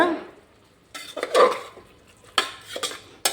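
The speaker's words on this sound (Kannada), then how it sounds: "ಇದನ್ನು ಕೂಡ ಚೆನ್ನಾಗಿ ಮಿಕ್ಸ್ ಮಾಡಬೇಕು" A spoon knocks and scrapes around a pot in a few separate bursts of mixing curd and tomato into mushroom biryani masala, close by, with quiet pauses between.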